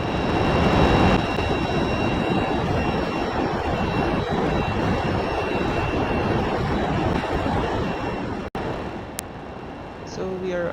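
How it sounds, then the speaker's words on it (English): The Dark Star hypersonic jet in Microsoft Flight Simulator 2020 roars as it nears Mach 3 before switching to scramjet engines, a dense, loud, continuous rushing engine noise with steady whining tones that cuts out abruptly near the end. "So we are approaching Mach 3 and we will be switching on the scramjet engines to get to hypersonic flight speeds."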